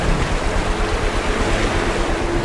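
Rushing river water in the video game Among the Sleep, a steady, full wash of flowing water with surf-like churn, close and continuous with no talking.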